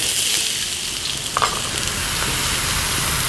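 Onion and chilies fry in oil in a hot wok, giving a loud, steady, close sizzle that holds throughout with no talking.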